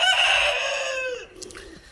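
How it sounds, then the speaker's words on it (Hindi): An Aseel rooster crows loudly and close by, one long drawn-out call that fades near the end, with no talk over it. "बहुत ही खूबसूरत और म्यारी मुर्गा है जी"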